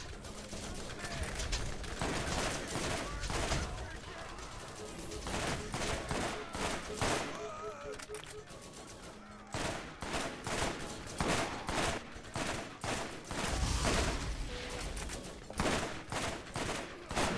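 Borderlands firefight with loud, repeated gunshots in irregular bursts and rapid automatic volleys, punctuated by brief pauses amid game effects.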